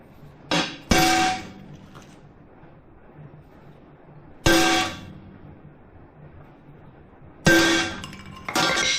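A hammer drives a heavy punch to mark metal for a modification on a Chinese mini skid steer, giving about five sharp, ringing metallic strikes, loud and close, spaced irregularly with quiet between them.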